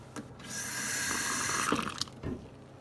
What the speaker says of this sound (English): I'm going to add cold water.